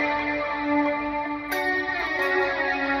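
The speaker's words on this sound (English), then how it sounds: "So after the reverb and after the delay, I have a chorus on there." Sustained guitar tones drenched in reverb, delay and chorus pedal effects, a shimmering washed chord that shifts partway through and rings on with a wide, swirling tail, no voices.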